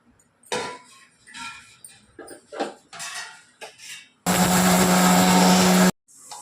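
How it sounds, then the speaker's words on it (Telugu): An electric mixer grinder pulverises toor dal, dried red chillies and curry leaves into rasam powder in a loud, steady whir lasting about two seconds, after quieter kitchen clatter and clinks of utensils. "కందిబ్యాళ్ళు, ఎండుమిర్చి, కరివేపాకు, ఇవన్నీ కలిపి పౌడర్ కొడతానండి"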